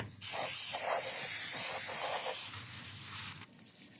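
A can of silicone remover sprays onto a car body in one long, steady hiss, with short pauses at the start and near the end.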